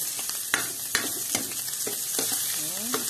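Garlic sautéing in butter in a pan for a vegetable dish, a steady close sizzle punctuated by sharp regular stirring clacks from a utensil, with no voices.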